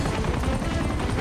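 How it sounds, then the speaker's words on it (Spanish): A helicopter in the video game Uncharted 2 on PS4 gives a loud, dense, continuous rotor roar throughout a brief moment of gameplay. "Uf, cuidado, que está el helicóptero."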